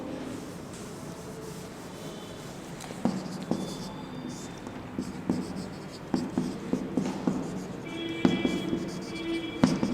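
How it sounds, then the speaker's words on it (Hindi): Marker strokes on a board during an organic chemistry lecture on alcohols: quick scratchy squeaks and taps come in irregular bursts, growing busier toward the end, with faint room noise behind them. "थोड़ा नीचे लिखते हैं इसको"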